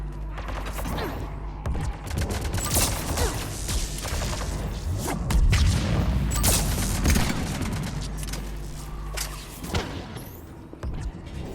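Biotic explosions and gunfire crackle through a Mass Effect 3 multiplayer match at Firebase London, a busy run of sharp bursts, booms and whooshes with a dense cluster near the middle.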